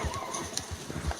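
Horse hooves clip-clopping in a quick steady rhythm with a short neigh in the middle, from the video game Red Dead Redemption 2, moderately close and fairly quiet.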